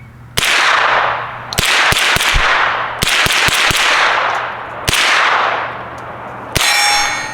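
Repeated muffled reports from a suppressed rifle firing tri-slug rounds on an outdoor range: about five or six sharp, loud shots, each with a long decaying tail and some quick follow-up clanks, without any talking.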